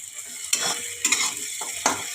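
A bay leaf sizzles in oil alongside frying onions for aloo dum, with a spoon stirring and scraping the pan in three or four close, fairly loud bursts over a steady frying hiss.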